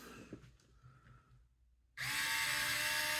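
After a quiet stretch of faint handling noises, a power drill on its lowest of three speeds starts abruptly and whirs steadily while driving magnetized screws into soft plastic on a model race car.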